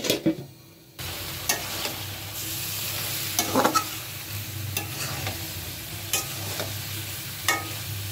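Curry spice base being stir-fried in a pan: a steady sizzle of frying with scraping stirring strokes at intervals, close and continuous, no voices.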